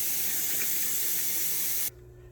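Running water pours steadily over hominy in a container as it is rinsed, a close, even rushing hiss that cuts off abruptly near the end, leaving quiet room tone.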